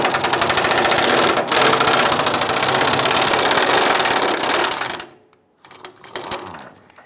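A power tool whirs loudly and steadily while loosening and removing 18mm bolts on a 1995-2001 Ford Explorer, then cuts off, leaving faint clicks and handling of the parts.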